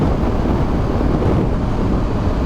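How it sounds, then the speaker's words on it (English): Heavy, constant wind roar buffets the microphone on a motorcycle travelling at 130 km/h on a European tour, a dense, loud rushing noise with no let-up and no voice over it. "I'm hoping you can all hear me okay with all this wind."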